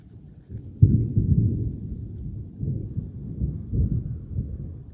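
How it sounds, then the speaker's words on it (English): Low, distant rumbling thunder rolling on for several seconds, swelling and fading in waves with no voices over it. "did y'all hear that thunder?"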